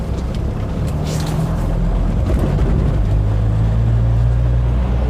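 A 1967 Audi 80 Variant on the road, its engine a steady, even drone with low rumble and road noise throughout, pulling smoothly at low revs with no voices.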